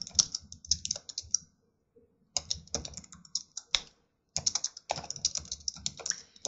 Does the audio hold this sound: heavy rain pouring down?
no